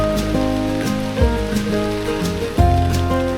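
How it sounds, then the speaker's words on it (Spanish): Steady rain patters on a surface on a mountain hiking route, mixed with a sustained tonal hum and a couple of low thumps. "la lluvia hace acto de presencia"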